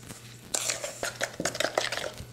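Banana bread batter with vanilla extract being mixed in a bowl, a quick series of clinking and scraping strokes of a utensil against the bowl, close and fairly quiet, irregular in rhythm.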